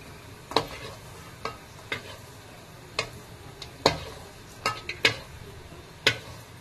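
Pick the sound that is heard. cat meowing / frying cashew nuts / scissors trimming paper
frying cashew nuts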